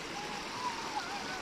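The natural water stream at Ayn Hamran in Salalah, Oman, during Khareef 2022, makes a steady, close rushing wash that continues briefly without a break.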